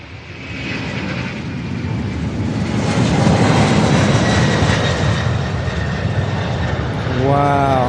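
A loud, broad roar from UPS aircraft jet engines on runway 35 left at Louisville SDF swells and holds steady, with a brief tonal burst near the end.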